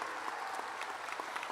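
Steady applause from a graduation ceremony crowd as graduating students with philanthropy cords stand up, a dense even patter of many hands held at a constant level.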